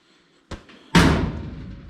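A Ford Bronco door is pushed shut: a light click, then a solid, close slam with a short rattling decay, with no talk.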